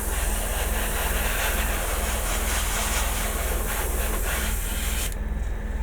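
An airbrush sprays paint onto a Godzilla vinyl model kit in a steady, close hiss that runs without a break and cuts off sharply near the end.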